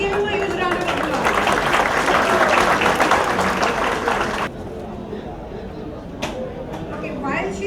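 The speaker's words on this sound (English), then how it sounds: "Please give him a huge round of applause." Applause at an academy anniversary literary awards ceremony, a full hall clapping densely for several seconds before cutting off sharply into quieter room noise with a few stray claps.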